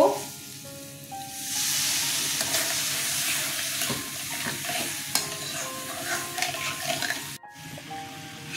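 Water pours into a pan of frying hilsa fish head and brinjal, a loud burst of hiss and sizzle that settles into steady bubbling with stirring scrapes, close and without talk.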